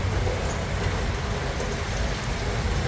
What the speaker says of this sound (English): It's a rainy day today.